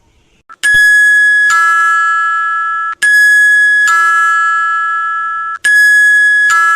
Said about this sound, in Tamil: காலிங் பெல்ல போட்டு நொச்சு நொச்சுன்னு யார் அடிச்சுக்கிட்டு இருக்கா?